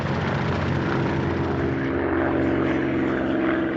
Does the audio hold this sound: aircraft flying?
yes